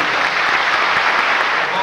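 Loud, dense audience applause at a Lucy Fest event in a theater, continuous and close with a blended roar of many hands clapping and no break.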